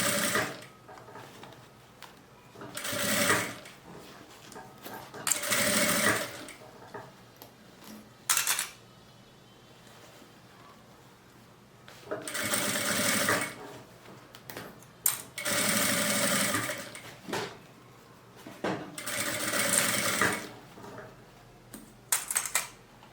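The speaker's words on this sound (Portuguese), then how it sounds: "costura a volta toda. Até encontrar minha costura do outro lado." A sewing machine stitching a seam around a fabric necessaire, running in repeated bursts of a few seconds each with quiet pauses in between, close and clear.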